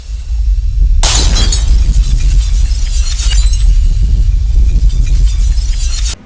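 Sound effect of something smashing to bits: a sudden loud crash of shattering, breaking debris after a brief quiet start, followed by several seconds of crumbling, rattling fragments and a heavy low rumble.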